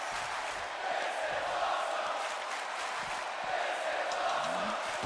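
A wrestling arena crowd in the WWE 2K25 video game cheers and roars as a steady, dense wash of noise, held at a constant level and slightly distant, with no clear voices on top.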